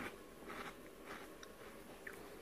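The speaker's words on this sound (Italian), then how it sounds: "Adesso vi faccio vedere la consistenza mangiandone uno, per farvi sentire la croccantezza." Crunchy white bread crostini bitten and chewed close up, a few crisp crunching bursts spread over a couple of seconds against faint background noise, no talking.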